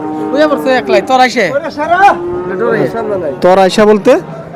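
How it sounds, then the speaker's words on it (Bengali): Loud, close cattle mooing at a livestock market, several long bellowing calls one after another, with little else around them. "এখানে দেখেন একটা গরু হচ্ছে"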